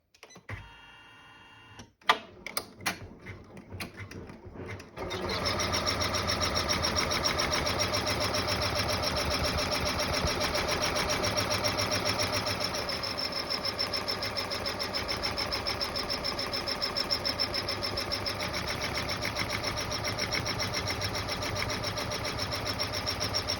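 Embroidery machine stitching the first step of a tab-style credit card holder on cutaway stabilizer, a few clicks at start then a steady rapid mechanical needle hammering and whir, close and continuous.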